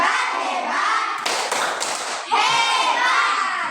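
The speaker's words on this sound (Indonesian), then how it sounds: "Tepuk hebat dulu, ayo." Elementary schoolchildren in a classroom perform the 'tepuk hebat' clapping routine: a quick burst of rhythmic group claps in the middle, sandwiched between loud children's chanting voices.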